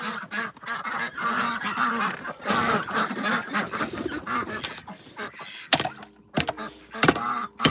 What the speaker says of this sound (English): So these are the ducks being ducks.